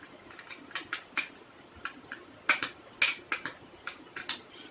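A spoon stirring black salt in a bowl, giving a string of light, bright clinks and scrapes at an uneven pace, close and fairly quiet, with no talking.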